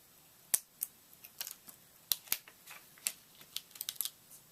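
Small scissors snipping a little piece of paper for a handmade shadow box card, giving a string of sharp, close, irregular clicks and snips with short pauses between them and no talking.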